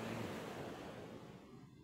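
Sea waves wash steadily onto a beach in a light breeze, a soft continuous surf that stays faint and even throughout, with no voices.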